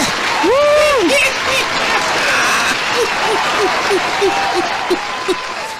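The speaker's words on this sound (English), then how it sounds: "Play that clap for us now" Recorded applause sound effect played on a radio show, with steady crowd clapping under repeated whooping or whistling calls, loud and close.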